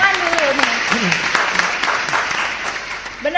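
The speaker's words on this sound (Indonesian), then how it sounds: "Nah, tepuk tangan dulu nih." An audience claps during an Indonesian motivational poetry talk, a dense patter of applause running throughout while a voice talks over parts of it.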